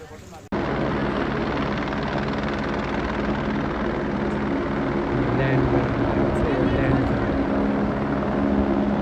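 A helicopter's steady rotor and engine roar fills the whole stretch, loud and continuous after an abrupt start, with no voices audible, during flood rescue efforts in Nepal.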